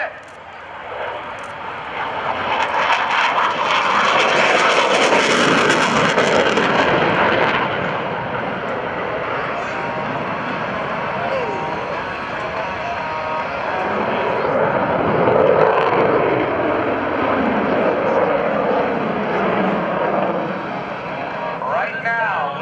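An F/A-18C Hornet jet from VFA-106 at the Naval Air Station Oceana airshow gives a loud, sustained roar that swells and then lingers, with a voice talking over it.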